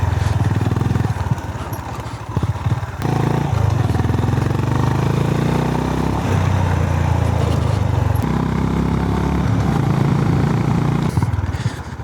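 A 2025 Honda GB 350S motorcycle ridden off-road, its single-cylinder engine a loud, continuous close rumble with slight shifts in load and some rattling clatter, with no voices.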